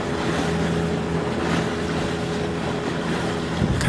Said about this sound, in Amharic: በታላቁ የአማዞን ወንዝ ላይ ውሃውን በኃይል እየቀዘፈች ወደፊት ጀልባችን መገስገስ ጀመረች።